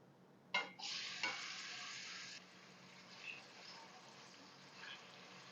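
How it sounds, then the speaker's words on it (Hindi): Round tomato slices dropped into oil in a pan set off a sudden loud sizzle that holds for under two seconds and then cuts off, leaving faint crackling and a couple of soft pan taps; no talking. "टमाटर को 3 से 4 मिनट मैंने फ्राई कर लिया है लो मीडियम आंच पे ऑयल में"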